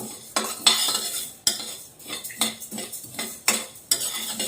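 Coriander seeds stirred in a hot pan with a spoon, the metal scraping and clinking in irregular strokes, close and fairly loud with faint sizzling underneath and no talk.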